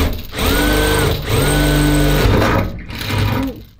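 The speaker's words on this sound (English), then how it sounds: "I'm drilling upside down here." Drill cutting a hole up through the metal roof of a camper van, three loud whirring bursts with short pauses between them.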